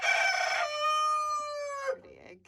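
A bantam farm rooster crows once, a loud, close, drawn-out call with a rising start and a long held note before it breaks off, ending in a short rustle.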